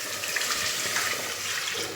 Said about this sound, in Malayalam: ഞാൻ അരപ്പ് കഴുകിയ വെള്ളം വെച്ചിട്ടുണ്ട്. ആ വെള്ളമാണ് ഒഴിക്കുന്നത്.